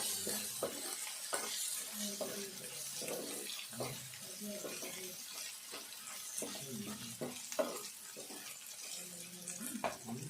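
Potatoes and vegetables for aloo fry sizzle steadily in a pan, a constant hiss with scattered clinks and stirring scrapes, while a voice talks softly now and then in the background.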